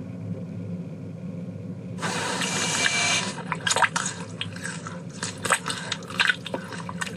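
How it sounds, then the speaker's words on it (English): Bog water draining down a plug hole in the video game Siren Blood Curse: a low rumbling background, then a sudden loud rush of gushing water with irregular gurgling splashes and drips. "Sam's fell down a plug hole with some bog water going into it."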